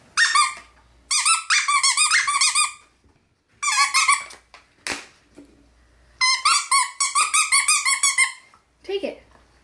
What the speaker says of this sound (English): I'm going to squeak this.